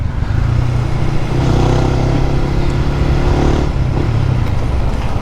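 A KTM 390cc adventure motorcycle engine idles and runs steadily close by, a continuous low rumble with slight rises in revs, heard alone without talk.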